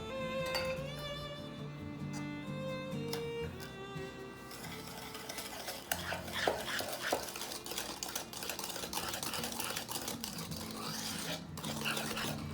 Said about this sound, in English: Add 3 large eggs and whisk together well.